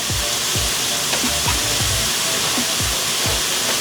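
Tap water runs in a steady, loud hiss while a cutting board is washed in a kitchen after chopping meat, with soft repeated knocks and thumps of the board under the stream.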